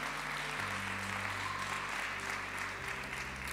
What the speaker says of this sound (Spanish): Démosle un aplauso a ese uno y al Señor.